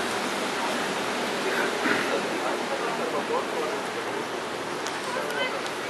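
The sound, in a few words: running water near fountain in Kos town centre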